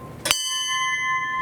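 A ship's bell tolled at a memorial for lost submarines rings once, loud and close, its clear tone ringing on and slowly fading in an otherwise quiet room.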